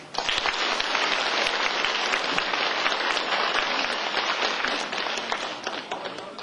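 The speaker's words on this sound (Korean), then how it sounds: "울산까지 와서 이렇게 열화와 같은 박수를 받아볼 거라고 생각도 못했네요" A large audience in Ulsan breaks into loud, enthusiastic applause, a thick continuous roar of clapping that stays strong for over six seconds before easing slightly at the end.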